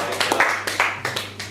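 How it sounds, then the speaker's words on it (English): A small group applauds at a quiz prize announcement, a few scattered hands clapping in uneven bursts, fairly close and brief, with no talk over them. "How about a round of applause?"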